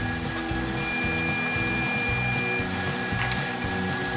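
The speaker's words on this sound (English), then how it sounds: "Instead of using a dado stack, I'm using the standard saw blade to cut the 1/4 inch slots." Standard table saw blade cutting 1/4 inch spline slots in a box shelf using a spline jig that rides along the fence, giving a steady loud machine drone with rhythmic repeated pulses and no talk.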